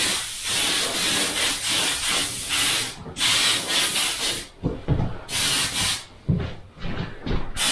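Scotch-Brite pad scrubbing black paint off bike forks, close and loud, a run of steady abrasive rubbing strokes that turns into short separate scuffs with brief pauses between them.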